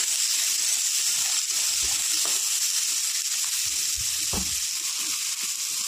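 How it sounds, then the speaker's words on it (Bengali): Whole cumin, nigella seeds and onion sizzle steadily in hot oil after potatoes have been fried, with a continuous bright hiss and scattered soft scraping as the mixture is stirred, close and fairly loud. "এবার এই দিয়ে দেবো গোটা জিরা, কালো জিরা, পেঁয়াজ। নাড়াচাড়া করে নেব।"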